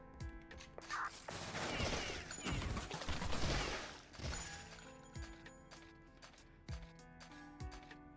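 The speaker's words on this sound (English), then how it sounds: "She reloads a tube shotgun fast." In Final Fantasy 10, a shotgun fires several sharp, booming shots between quick mechanical clicks and clacks of fast tube reloading. The whole sequence is fairly quiet.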